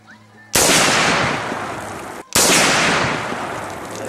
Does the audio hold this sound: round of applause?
no